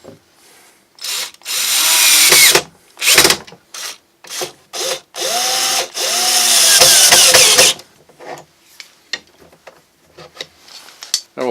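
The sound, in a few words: power drill driving screws into table saw cart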